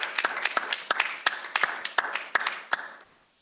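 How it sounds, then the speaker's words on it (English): A small group claps at a town board meeting, sparse and distinct hand claps in an uneven rhythm for about three seconds before they stop. "How about a round of applause and thank you?"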